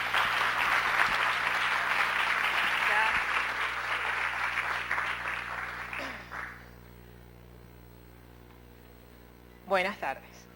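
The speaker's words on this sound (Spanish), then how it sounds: "La recibimos con un fuerte aplauso," An audience at a dental conference on mindfulness in patient care applauds to welcome a speaker. The dense clapping fades out after about six seconds over a steady mains hum, and a brief voice follows near the end.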